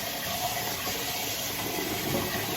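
Cold water pours in a steady, hissing gush over hot cooked mung beans, continuous and close for a few seconds with no talking.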